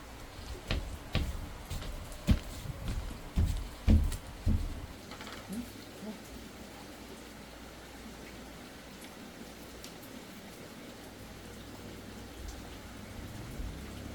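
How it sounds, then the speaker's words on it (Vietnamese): Heavy rain falling steadily in a rural Vietnamese setting, a continuous wash of patter with a few louder knocks and thumps early on, then an even, moderate hiss that carries on to the end. "Mưa to."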